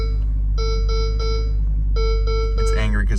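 Seatbelt warning chimes sound from a 2019 Ferrari Portofino cabin, a run of evenly spaced electronic tones in two groups of three over low engine hum, followed by a brief burst of other noise.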